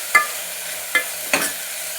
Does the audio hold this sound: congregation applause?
no